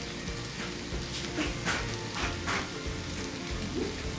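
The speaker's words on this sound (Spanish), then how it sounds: "Le vamos a agregar su salsa." Sauce poured over a beef roast topped with onion slices in a hot pan, giving a dense, continuous crackling sizzle with bursts of popping, heard close.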